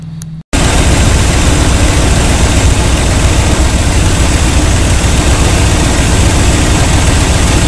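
A Chevy engine idles steadily while warming up, a close, continuous low rumble that runs alone after a brief cut near the start.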